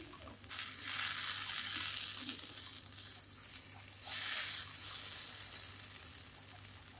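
Paste from two large tomatoes fries in a pan for chicken shashlik gravy while being stirred, a soft steady sizzle with occasional scraping swells and a faint constant high whine, quiet and without talk.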